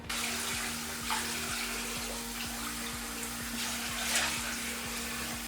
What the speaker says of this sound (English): I'm just gonna go ahead and rinse my face off real quick.